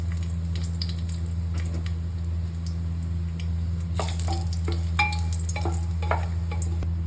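Cinnamon, dried chilli and bay leaf sizzle in hot oil for a Bihari-style mutton curry, a soft continuous fizz over a low hum, broken by scattered clicks and a brief burst of crackling midway.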